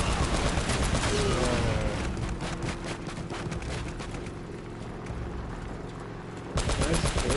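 Rapid gunfire in the video game Uncharted: Drake's Fortune, a sustained loud rattle of bursts running through the whole stretch, with speech mixed in.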